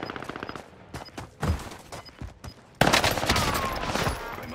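Video game gunfire rattles in rapid automatic bursts, first as spaced volleys and then as a louder, sustained barrage of overlapping shots.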